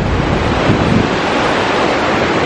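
Loud, dense roar of a waterfall fed by Briksdalsbreen glacier meltwater in western Norway, a continuous close rushing wash with wind buffeting the microphone and no talking.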